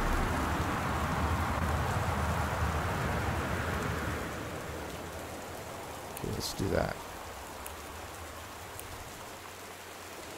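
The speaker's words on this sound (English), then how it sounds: "It's raining." Steady rain hisses throughout in the video game Gone Home, louder at first and easing partway, while a voice speaks briefly over it.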